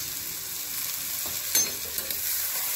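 Sprouted moth beans stirred in a hot kadhai over full flame, a continuous close sizzle with a couple of scraping strokes of the spoon, no voices.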